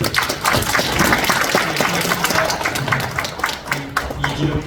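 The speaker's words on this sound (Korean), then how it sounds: "다시 한번 뜨거운 박수로 환영해 주시면" Warm applause fills a hall at a 2022 general assembly ceremony of a safety prevention association, dense steady clapping from a crowd with a voice speaking over it.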